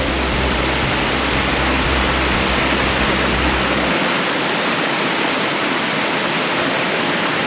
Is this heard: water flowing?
yes